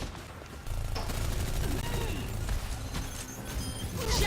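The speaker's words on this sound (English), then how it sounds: "Oh, there's a huge barrage from Nodi." A rocket barrage in a competitive multiplayer video game match erupts as a dense, sustained burst of rapid explosive fire, loud and continuous, with game sounds layered throughout.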